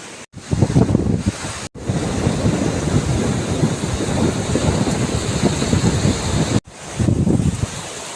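Sea waves break on the shore in a steady, loud roar with heavy wind buffeting the microphone, a continuous near wash of surf broken by a few brief cuts to silence.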